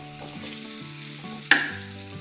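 Tempering for batata vada sautéing in a little oil in a home kitchen, a steady close sizzle and fry with a single sharp clink of a utensil midway, no talking.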